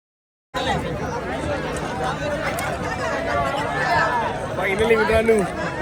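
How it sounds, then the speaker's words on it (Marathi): A dense crowd chatters in a steady, continuous babble of many overlapping voices near a boat ride at the Kumbh Mela in Prayagraj, with the noise swelling slightly toward the end. "जेवढं एक्सपेक्ट केलं त्यापेक्षा जास्त गर्दी आहे."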